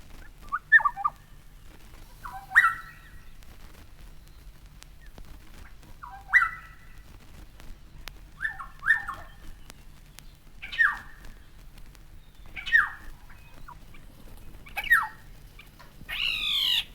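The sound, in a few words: Black-headed Oriole calls, including its sharp chirr alarm call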